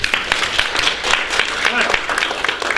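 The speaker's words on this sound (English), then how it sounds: "Round of applause for Sean." Audience in a lecture room clapping for a participant, a busy patter of hands with uneven peaks, fairly close, lasting a few seconds.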